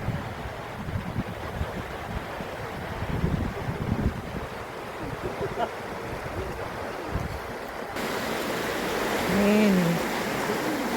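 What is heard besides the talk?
water swirling at the Pitlochry dam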